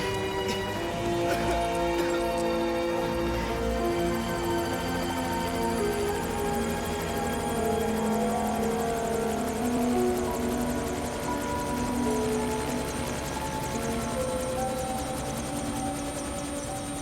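A steady, loud helicopter drone with a dense rotor throb runs throughout, continuous and close, with no voices.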